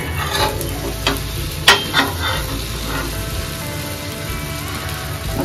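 Slices of bread toast in melted butter in a pan, with a steady close sizzle and a few light scrapes and taps as they are turned.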